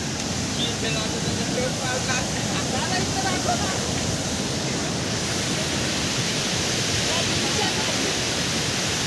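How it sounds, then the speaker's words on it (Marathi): Kalu waterfall on a trek, a steady broadband roar of falling water filling the whole stretch, constant and moderately loud with no breaks. "हा काळू वॉटरफॉल"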